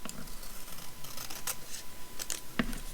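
Scissors cut narrow strips of paper for a file folder label, a few crisp snips close up against a soft background hiss.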